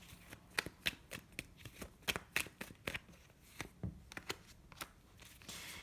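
A deck of tarot cards is shuffled by hand in a quick, irregular run of crisp riffles and slaps, quiet and close, with no talking.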